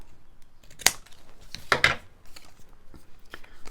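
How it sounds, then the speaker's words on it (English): Heavy scissors snip through paper or card for a grungy handmade journal, two crisp cuts close by with quiet pauses around them. "It'd be nice if I could cut through. I think these scissors are a bit heavy for me at the moment."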